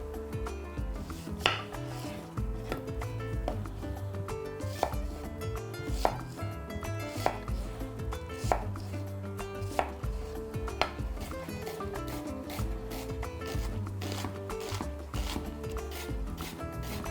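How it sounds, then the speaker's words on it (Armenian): A knife finely chopping an onion on a board, a quick, fairly regular series of close, crisp taps continuing steadily for many seconds. "կտրատում ենք մանր"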